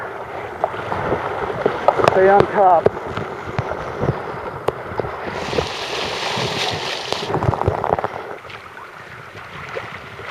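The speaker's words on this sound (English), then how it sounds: "Waves coming, waves coming." Waves slosh and break against a small rowing boat on open water, a continuous rushing wash with wind buffeting the microphone and a person calling out over it.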